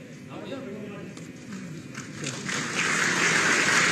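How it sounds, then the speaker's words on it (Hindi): An audience gives loud applause at a ceremony for newly selected Uttar Pradesh police sub-inspector candidates, with a speaker's voice heard over the clapping as it swells and grows louder toward the end. "इनके लिए जोरदार तालियां बजाइए।"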